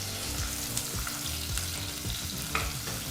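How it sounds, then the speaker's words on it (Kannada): Sliced onion frying on a medium flame for khushka rice, a continuous close sizzle broken by regular scraping stir strokes and small clinks, steady and alone without talk. "ಈರುಳ್ಳಿನ 2 ನಿಮಿಷಗಳ ಕಾಲ ಮೀಡಿಯಂ ಫ್ಲೇಮ್ನಲ್ಲೇ ಫ್ರೈ ಮಾಡ್ಕೋಬೇಕಾಗತ್ತೆ"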